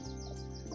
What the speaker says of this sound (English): That's the blackbird singing.